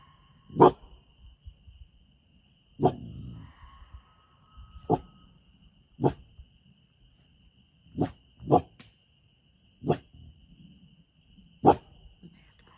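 A Dalmatian barks outdoors: about eight single, sharp barks spaced one to two seconds apart, moderately near, against a quiet background with a faint steady tone and no talking.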